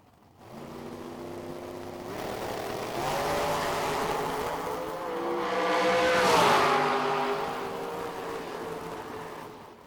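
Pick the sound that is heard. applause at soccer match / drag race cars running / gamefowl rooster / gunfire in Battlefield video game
drag race cars running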